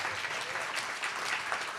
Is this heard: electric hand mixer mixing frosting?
no